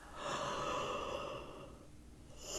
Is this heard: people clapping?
no